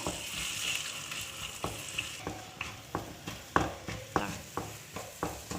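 Two beaten eggs with salt fry in a pan for egg kothu parotta, a steady sizzle broken by repeated sharp scrapes and taps of a spatula stirring, close and fairly loud, with no talking.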